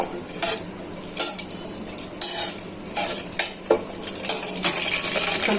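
Cardamom, cinnamon and bay leaf frying in oil for bhuna khichuri, a loud close sizzle broken by repeated clinks and scrapes of a spoon stirring in the pot, no talking.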